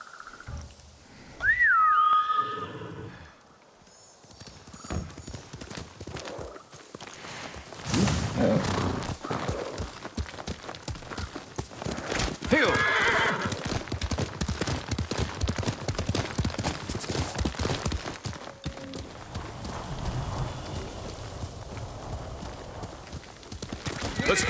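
A horse neighs in the Ghost of Tsushima video game, followed by a steady clip-clop of galloping hooves that runs for many seconds. A sharp whinny comes early, with a brief voice in between.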